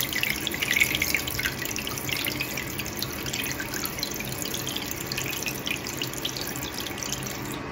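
Water runs steadily as a bathroom toilet tank refills after cleaning, giving a continuous hissing trickle with faint drips throughout, close and moderately loud with no voices.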